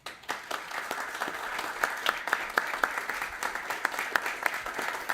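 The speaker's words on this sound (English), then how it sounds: "And I think they deserve a round of applause." Applause from a modest audience at a city council candidate forum in Capitola, California, with scattered sharp individual claps standing out over a thinner, steady patter.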